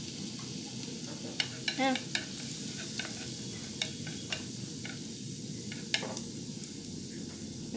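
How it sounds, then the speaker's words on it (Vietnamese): Garlic and mushrooms stir-frying in a hot pan, giving a steady close sizzle and hiss throughout with scattered clicks and scrapes of a utensil against the pan, and a brief spoken word near the start. "Mình phi tỏi cho thơm ha. Xong rồi mình xào nấm của mình trước đó"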